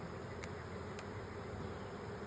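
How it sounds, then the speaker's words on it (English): A steady, low droning buzz of many male honeybees (drones) at a hive, continuous and fairly faint, with a couple of brief clicks and no voices. "there's a lot of male bee drones"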